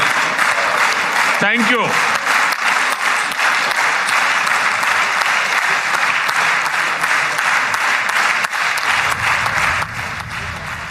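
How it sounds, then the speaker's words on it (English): The full Knesset chamber applauds steadily and loudly as India's Prime Minister leaves the podium. Someone briefly says thanks near the start, and the clapping continues underneath throughout. "going down from the podium to the applause of the entire Knesset chamber"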